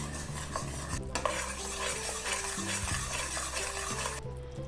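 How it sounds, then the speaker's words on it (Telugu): Jaggery syrup with a little ghee boils in a pan for puffed rice laddoo, giving a dense, continuous bubbling with close stirring scrapes and light clinks throughout. "ఇప్పుడు మనము బెల్లం పాకం వచ్చేంత వరకు బాగా మరిగించాలి."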